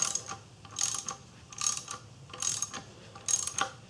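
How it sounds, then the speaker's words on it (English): Ratchet with a seven millimeter socket snugging nuts on studs during Ford Escape timing belt and water pump work, five short clicking bursts spaced evenly, close and clear. "Seven millimeter socket to fit the studs."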